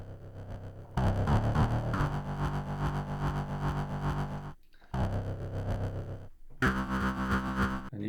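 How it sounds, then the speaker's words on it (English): A looped synth sound with a pulsing wah sweep and tremolo, dense and harsh, repeating in steady sections broken by two short drops, loud and alone. "you hear that wah wah wah sound. So I leaned into that and added some tremolo"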